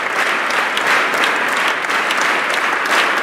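Dense, loud applause from a large crowd clapping continuously for a Guinness World Record longest-applause attempt, sustained and even throughout.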